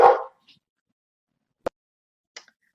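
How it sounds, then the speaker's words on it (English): A dog gives one short close bark indoors, followed by a few faint, clipped yips and sounds spaced out over a couple of seconds of near silence. "I had to pause and go shut my barking dogs up"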